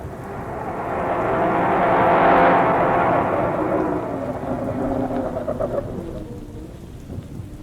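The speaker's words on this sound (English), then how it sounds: "listen to the rain drum on the ceiling" Heavy rain drums steadily on a roof during a thunderstorm on a stormy 1950s night drive, with a long rolling thunder rumble swelling in the first seconds and fading into the continuous downpour.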